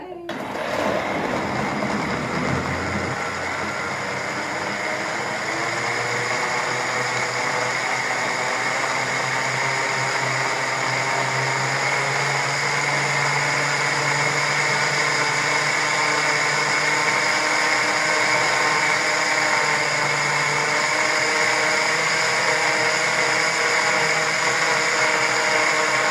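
A blender motor runs steadily for the whole stretch, loud and close, whirring through ginger and about two cups of water for juice, with a constant harmonic whine and no pauses.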